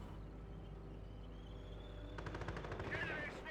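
Half-track machine-gun fire in the WWII strategy game Company of Heroes, a rapid rattling burst that cuts in partway through over a steady low rumble of battle, fairly loud.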